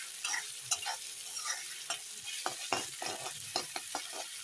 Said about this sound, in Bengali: আদা তেলে দিয়ে একটু নেড়ে নিলাম